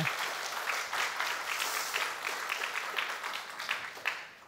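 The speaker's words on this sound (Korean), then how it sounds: "박수로 우리 환영하겠습니다" A church congregation claps steadily to welcome visiting guests, a dense, even wash of applause across the whole stretch with a few sharper individual claps standing out near the end.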